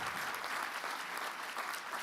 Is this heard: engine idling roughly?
no